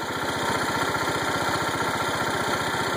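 A John Deere 216 lawn tractor engine runs at a steady idle close by, a loud, even, rapid putter with a constant buzzing drone and no variation or talking.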